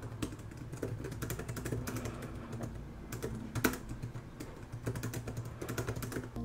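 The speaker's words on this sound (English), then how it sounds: "The keys have a nice click to them. It really feels good to type on." Clicky typing on a Brydge Pro wireless keyboard for an iPad Pro, a steady run of close keystrokes over a low constant hum, with one louder key press partway through.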